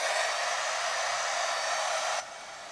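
A heat embossing tool for card making blows steadily with a loud, broad hiss for over two seconds, then cuts off abruptly, leaving a quieter background.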